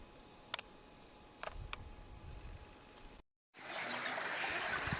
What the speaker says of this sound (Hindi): ये आप पानी का बहाव देखें कितना ज़बरदस्त पानी बह रहा है